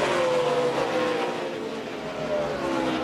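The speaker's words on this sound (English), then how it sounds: "Frank's closing right up on the back of Buescher here. Get a little draft down this front straightaway" ARCA stock race cars at Pocono roar down the front straightaway in a draft, a loud sustained engine drone with shifting pitch as the cars run close together.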